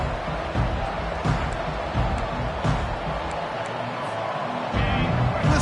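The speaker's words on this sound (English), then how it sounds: "Listen to the crowd energy here in the early going." A football stadium crowd roars in a constant, dense wash of noise with occasional thumps and swells, heard under faint commentary.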